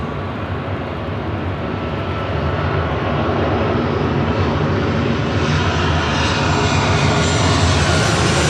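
A Delta Airlines Airbus A321neo jet roars steadily during its departure from LAX, a loud, broad engine rumble that swells slightly as it continues.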